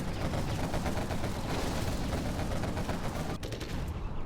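Dense explosions and rapid weapon fire crackle nonstop during a desert-map tournament match of a real-time strategy game, air army versus demolition units. The noise is loud and layered, with one sharp blast standing out late.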